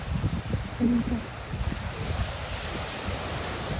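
Baltic Sea waves breaking on a stony shore on the German coast make a steady broadband wash with low rumbling surges, close by and mixed with wind buffeting the microphone.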